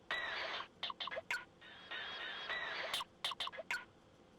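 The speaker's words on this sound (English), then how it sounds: "I wanted to use this basically as turning our bird sample into part of a drum beat" A bird call sample chopped and triggered as a drum beat in Ableton, heard as two longer chirping phrases alternating with short rhythmic bird-like hits, close and clear with no talk.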